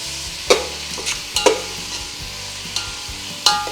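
Onions stir-fry with a little salt in a pan with a steady soft sizzle, punctuated by several sharp scraping clicks of a spatula against the metal at irregular intervals.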